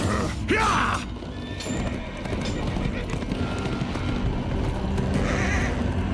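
Hooves pound through a horse gallop in the medieval combat game For Honor, a steady rhythmic clatter with creaks and a brief whinny up front, mid-distance and continuous beneath a game soundscape.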